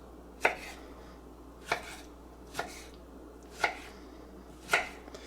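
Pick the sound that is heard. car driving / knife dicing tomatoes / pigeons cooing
knife dicing tomatoes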